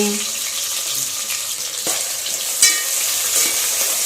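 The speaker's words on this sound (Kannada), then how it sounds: "ಎಣ್ಣೆ ಕಾಯ್ತಾ ಇದೆ ಈಗ ಈರುಳ್ಳಿ ಹಾಕ್ಕೊತಾ ಇದ್ದೀನಿ" Onions frying in hot oil, a steady bright sizzle with occasional soft stirring knocks and a clink, faint voices murmuring low in the background.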